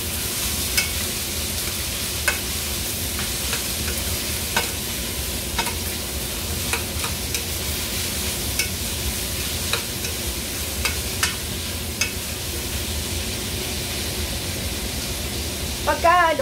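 Steady sizzling in a pot of kimchi stew with scraping stirs scattered throughout, a continuous hiss underneath, close and moderately loud.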